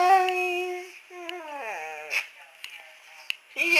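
A dog whimpers and yips in high, wavering whines during a close cuddle indoors, several drawn-out cries with brief pauses and small clicks between them.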